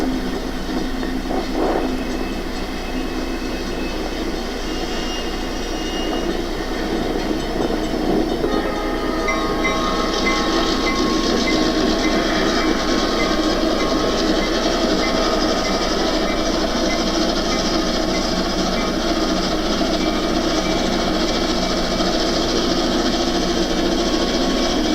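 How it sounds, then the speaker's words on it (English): A through freight train hauled by a pair of FP7 diesel locomotives rumbles past close by: a loud continuous roar of engines and rolling wagons, with a brief horn-like tone early and clanking rail noise building midway. "The arrival of the through freight, powered by a pair of FP7s."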